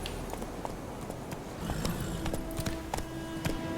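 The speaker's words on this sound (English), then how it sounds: "Luckily, Geralt can always count on his horse, Roach, to help him in his travels." Horse hooves clip-clop steadily in the open-world game The Witcher 3, a rhythmic, moderately quiet patter of footfalls over a busy background of game ambience.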